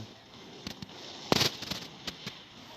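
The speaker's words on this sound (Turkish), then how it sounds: "Roketler, alev topları her şey uçuyor şu an" Rockets and fireballs burst in a Clash Royale match, giving a few sharp crackling blasts with one louder explosion in the middle over a faint game background.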